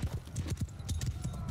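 Horse hooves clip-clopping in Mount & Blade II: Bannerlord, a steady run of close, regular thudding footfalls with no talk over them.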